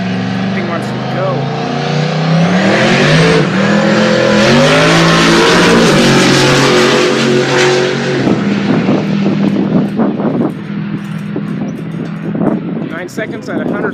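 A drag racing car at Rocky Mountain Speedway launches and roars past loud and close, its revs climbing in stepped gear changes before the sound fades into crowd noise, with people talking and cheering over it.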